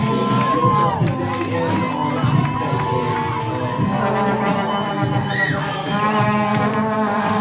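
A wrestling crowd at an FGW Shockwave show roars and cheers for the new tag team champions Alpha Sigma Sigma, a loud, steady wall of shouts and whistles with scattered horn-like tones running throughout.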